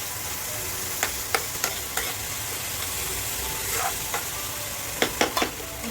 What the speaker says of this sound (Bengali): এরপরে এটাকে হচ্ছে যে গোল্ডেন ব্রাউন হওয়া অবধি পেঁয়াজগুলো আমরা একটু ভেজে নেব।